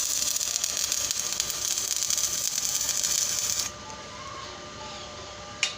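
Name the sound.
welding a pipe joint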